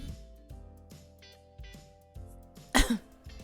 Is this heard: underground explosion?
no